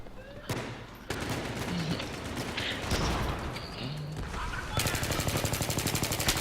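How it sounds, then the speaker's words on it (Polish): Battlefield 3 multiplayer gunfire, with sharp bursts and crashing shots early on, then a rapid, evenly spaced automatic burst rattling loudly near the end. "Ja do nich strzelam"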